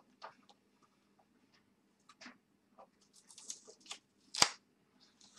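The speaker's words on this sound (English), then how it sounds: "let's remove this front cover, packing cover." Soft tearing and rustling as a taped-on packing cover is peeled off the front of a Mini ITX PC case, quiet scattered crinkles and plastic scrapes with one louder rip near the end.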